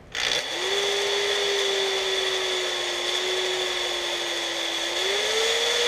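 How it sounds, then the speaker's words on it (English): Power sander grinding the nub off the base of a big maple bowl, a close, steady high whine that spins up quickly and holds with a slight shift in pitch. "I use the power sander to take down the nub"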